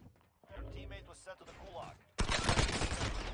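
Rapid automatic gunfire from Call of Duty Warzone erupts loud and dense in the final second, after a stretch of talk and muffled game noise.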